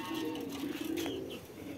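Domestic pigeons on an open rooftop cooing softly, a low repeated throaty coo under faint background noise as they gather to be hand-fed.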